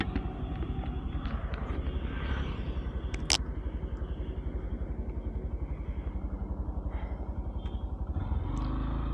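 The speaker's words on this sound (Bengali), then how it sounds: "তো বাইকটা আমি এখন প্রথমে নর্মাল স্পিডে রাইড করব" A motorcycle ridden at a steady normal speed of about 20, its engine giving a continuous, close, pulsing rumble with a constant rhythm throughout, recorded from a helmet-mounted homemade microphone with no talking.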